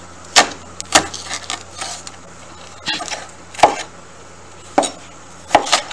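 A big knife chopping through cauliflower on a board for cauli-couscous: sharp, separate near cuts and thuds at an uneven pace, with gaps between strokes.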